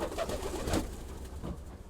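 A pigeon coos softly and close by in a few low, throaty calls against a quiet background hum.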